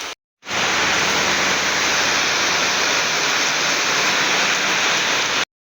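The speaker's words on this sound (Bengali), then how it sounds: "এখন বৃষ্টি পড়ছে।" Rain pours down heavily and evenly, a dense, loud hiss that cuts in after a brief silence and holds steady until the end.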